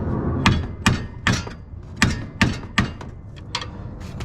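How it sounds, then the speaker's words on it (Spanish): A series of sharp, loud metallic hammer blows struck against a car axle shaft at an irregular pace, about a dozen hits with brief ringing between them. "le vamos a pegar unos cuantos martillazos"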